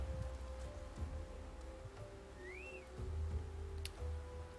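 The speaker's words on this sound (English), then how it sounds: "Did it start raining? It started raining." Rain falls steadily in a Final Fantasy video game, a soft continuous patter beneath a low ambient hum. A brief rising whistle cuts through midway, then a short high tick. The whole scene stays quiet and distant, with no voices.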